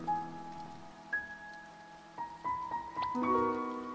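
Rain falls in the video game To The Moon, a soft steady patter beneath gentle tonal game music notes that shift and swell toward the end.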